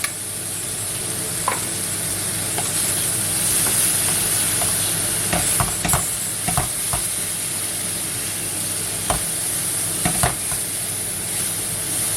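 Shrimp frying with soy sauce in a pan, a continuous sizzle and hiss broken by scattered scraping clicks of a utensil stirring, with no talk.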